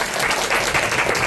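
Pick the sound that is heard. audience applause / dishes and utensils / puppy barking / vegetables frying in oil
audience applause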